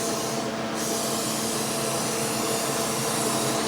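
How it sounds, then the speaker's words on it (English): Hybrid fractional laser running during a skin treatment in a clinic, a steady loud hiss-like hum with a slight dip in tone, continuous and alone with no voices. "the sound of my laser is starting to go down just a little bit"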